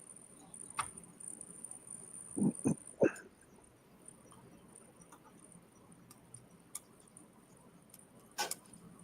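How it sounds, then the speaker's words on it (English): Faint crickets chirp in the background at a quiet poker session, broken by a few short clicks and rattles, with no voices. "I hear crickets. Like literally crickets."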